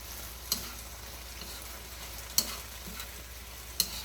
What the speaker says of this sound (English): So you mix your eggplant together with your string beans.